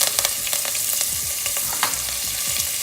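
Curry leaves sizzle and crackle in hot oil for a vada sambar tempering, a loud, steady frying hiss with sharp pops scattered throughout and no talking.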